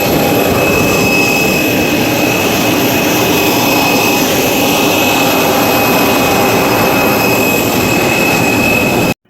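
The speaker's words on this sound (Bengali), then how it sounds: "কাছে থেকে তোমাদেরকে প্লেনের আওয়াজটা শোনাচ্ছি।" A jet airliner's engine roars up close at an airport, a loud, steady, broadband rush with a thin high whine on top that holds unbroken for the whole stretch and cuts off abruptly at the very end.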